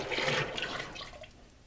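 Liquid glaze pours out of a handmade pottery teapot over its bisque body, a rushing, splashing stream near and loud at first, then thinning and trailing off into drips.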